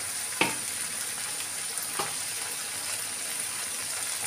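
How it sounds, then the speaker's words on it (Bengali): Ginger sizzles steadily in hot oil with ground spices in a pan, a continuous close frying hiss broken by a couple of sharp stirring knocks. "এবার আদাটা ভালো করে ভেজে নিয়ে"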